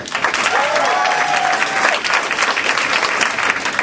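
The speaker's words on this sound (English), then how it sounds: "Let's give one more round of applause to Matt Kazan." Comedy club audience giving a round of applause, a dense, sustained burst of many hands clapping that fills the room, loud and close, with a faint whoop or tonal sweep riding over it early on.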